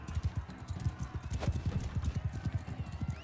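Horse hooves gallop in Mount & Blade II: Bannerlord during a mounted lance duel, a fast, even clip-clop rhythm close by, with a brief whinny-like cry in the middle and faint voices underneath.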